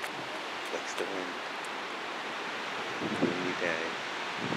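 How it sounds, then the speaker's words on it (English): Wind blows steadily outdoors on a windy day near a house, a broad rushing noise with faint brief voices in the background. "Windy day."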